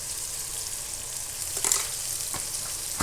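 Fish curry being stirred in a pan, a steady sizzle and bubbling hiss with a few soft scraping strokes of the spoon, close and moderately quiet, no talking.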